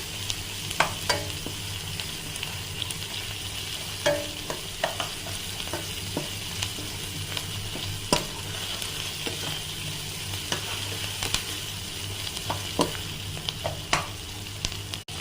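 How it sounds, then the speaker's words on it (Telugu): Onions fry in a pan with turmeric and ginger garlic paste for a palak and soya chunks curry, a steady loud sizzle broken by frequent sharp spoon scrapes and clicks from stirring. "ఇలా ఆనియన్స్ వేసుకుండగా కొంచెం పసుపు, కొంచెం అల్లం వెల్లుల్లి పేస్ట్ వేసుకోవాలి"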